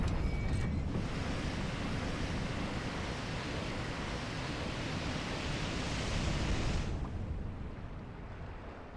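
Water rushes and drains steadily from a flooded area in the Dark Souls video game, a broad, dense roar that holds for about seven seconds before dropping off abruptly, with no talking.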